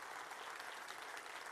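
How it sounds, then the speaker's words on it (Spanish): A church congregation claps together in a continuous, even burst of applause during a worship service. "Denle un aplauso fuerte al Señor."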